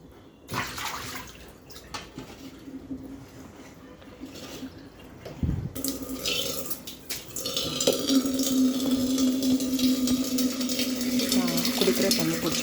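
Tap water runs while dal and greens are washed for a Tamil lunch, first a light trickle with splashes, then a stronger, louder rush of running water and swishing in a kitchen sink.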